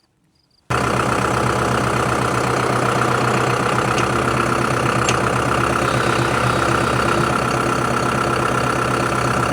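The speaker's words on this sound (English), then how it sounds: "We're going to push it in with the tractor." A farm tractor engine runs at a steady, loud idle-like drone while pushing a fence pipe into the ground, starting abruptly after a brief quiet moment and holding an even mechanical hum with a knocking undertone throughout.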